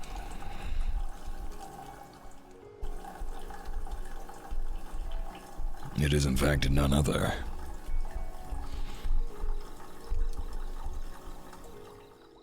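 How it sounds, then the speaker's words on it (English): Tea streams from a teapot into a cup in a brief, close liquid pour in the middle, with a faint background trickle, while people talk over it. "Sounds like tea being made in the background."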